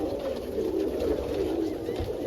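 Pigeons cooing in a clean loft with hay on the floor, a soft, steady, continuous murmur of low coos from many birds close by.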